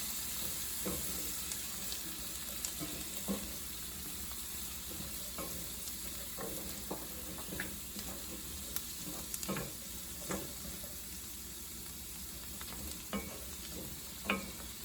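Vegetables sauté in a pan for a chicken stuffing casserole, a steady low sizzle dotted with frequent clicks and scrapes as they are stirred around, with no talk.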